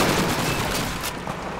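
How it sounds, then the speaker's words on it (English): Dense, loud MG 42 machine gun fire in the Call of Duty 2 video game, a continuous rapid clatter of shots with booming impacts, close and unbroken for over a second. "Machine gun MG 42!"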